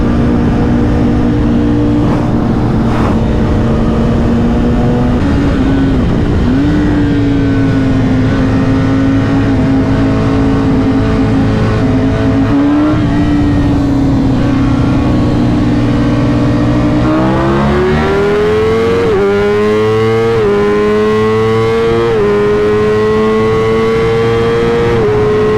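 Superbikes such as a Panigale V4R, S1000RR and ZX10R accelerate hard on a run, a loud, sustained engine roar climbing through rising pitch steps as gears change near the end.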